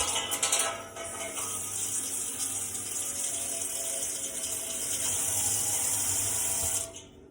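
Tap water runs steadily into a baking tray, filling it with a thin layer for fabric dyeing; a continuous, even rush of splashing flow lasts almost the whole time, then stops abruptly near the end.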